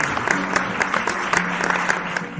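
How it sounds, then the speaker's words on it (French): Applause for a singing tortoise before a king, a steady patter of many clapping hands over a low hum, moderately loud and continuous. "Banta reçoit les applaudissements comme s'ils lui étaient adressés"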